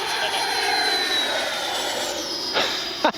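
A Freewing Avanti S V2 RC model jet with its ducted fan at full throttle gives a loud, steady, high-pitched whine that drifts in pitch as it passes, with a sharp gust near the end.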